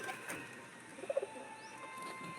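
Domestic pigeons on a rooftop, waiting to be let out, give a single soft, faint coo midway through over a quiet background hum.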